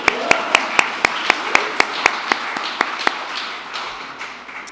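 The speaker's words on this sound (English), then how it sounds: "I think we can clap." An audience at a Community Violence Awareness Week ceremony claps in a slow, evenly spaced rhythm of crisp single claps that gradually fade out, with faint room murmur beneath.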